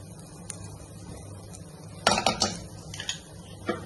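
A ladle stirring and softening dates in a pan with ghee, giving soft scraping and clinking against the metal pan in a short burst of several knocks, then quieter taps.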